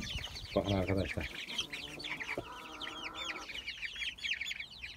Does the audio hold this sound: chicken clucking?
yes